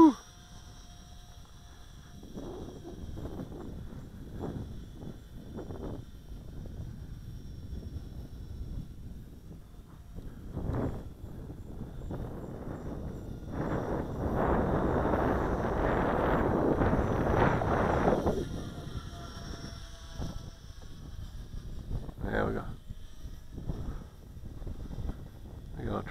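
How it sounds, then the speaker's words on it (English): Wind gusts rumble across the microphone, building to a heavy blast in the middle before easing, with a small model B-17 plane droning faintly beneath. "it's too windy"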